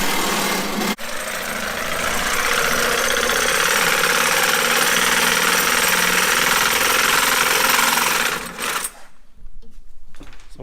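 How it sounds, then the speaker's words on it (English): Stud ends on a custom metal floating stair railing being cut off with a loud, steady, high-pitched grinding whine that runs continuously for about eight seconds, then cuts out, leaving quieter shop noise. "cutting off the excess studs"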